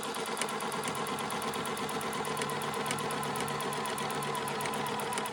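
A sewing machine runs steadily while hemming the bottom edge of a fabric half apron, its dense mechanical whir continuous and fairly close throughout, with faint regular ticking on top.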